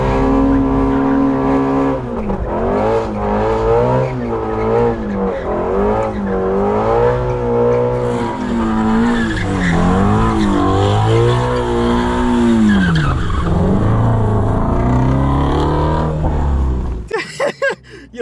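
A Ford Mustang GT350R race car spins donuts, its engine revving hard in repeated rising and falling surges while the tires squeal continuously and loudly at close range. The sound cuts off abruptly near the end.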